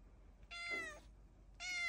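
A small kitten gives two short, clear meows with a pause between them, close and alone against a quiet background.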